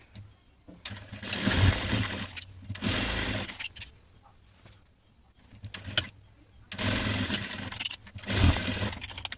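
A domestic sewing machine stitching the shoulder seam joining the front and back pieces of a sewn top, running in several loud whirring bursts of a few seconds each, separated by quieter pauses.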